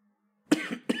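A single person coughs twice in close succession, harsh and near, after a moment of quiet, with no talking.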